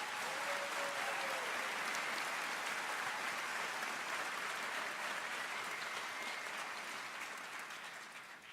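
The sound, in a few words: applause for the pipe and drum corps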